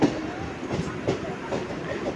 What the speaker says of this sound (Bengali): ট্রেন দ্রুত গতিতে ছুটছে